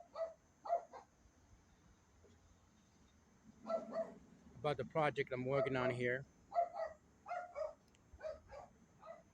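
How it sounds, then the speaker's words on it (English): A dog barks in the background outdoors in the evening, a short burst of several barks mid-clip, heard under someone talking close by. "Don't mind the dog in the background."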